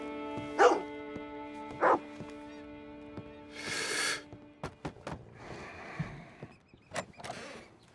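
A dog in the video game Red Dead Redemption 2 gives two loud, separate barks close by, followed by scattered rustling and softer noises.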